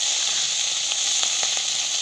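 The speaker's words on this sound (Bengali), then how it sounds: "মাছগুলো দিয়ে দিয়েছে কড়াইয়ে।" Small chela river fish fry in hot oil in a wok, giving a steady, even sizzling hiss with a few faint pops and crackles, close and unbroken, with no voices.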